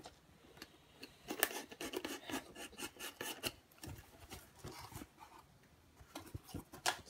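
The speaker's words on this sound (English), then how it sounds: "be careful not to cut it when I open the box up" Cardboard box holding a Mountune high-performance air filter being cut and torn open, giving a series of quiet, close scraping and rasping strokes in irregular bursts, with no voices.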